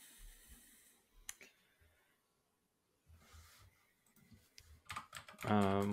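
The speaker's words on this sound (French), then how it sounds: "J'ai entendu Sean taper au clavier" Computer keyboard typing comes in scattered bursts of quiet clicks and taps with pauses between them, followed by a voice speaking at the end.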